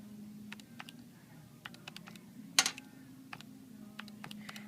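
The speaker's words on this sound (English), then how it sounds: "when I go and put that into my calculator" Numbers being keyed into a calculator: a run of light, irregular plastic taps and clicks, close and fairly quiet, with one sharper louder click midway over a faint steady hum.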